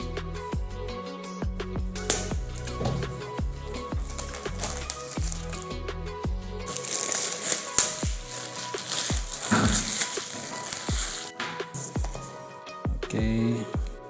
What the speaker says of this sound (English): Okay, let us cut open the box.